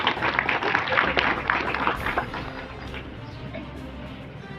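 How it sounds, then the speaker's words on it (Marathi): Broad, sustained applause from a crowd at an outdoor flag-hoisting ceremony, dense clapping that starts loud and slowly thins out over several seconds, with no voices over it. "सर्वांनी एकदा जोरदार टाळ्या वाजवा."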